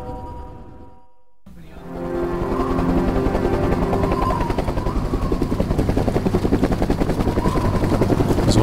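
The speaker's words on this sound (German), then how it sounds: "So, der Evakuierungspunkt wurde leicht verändert. Mit dem Hubschrauber." An evacuation helicopter in the PS3 video game Terminator Salvation starts after a short silence, then its rotor chops steadily and loudly under a whooshing engine drone.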